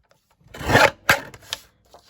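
A few short, harsh rasping crunches of a paper chopper blade cutting through coffee-dyed paper, close up, one longer cut followed by two quicker ones.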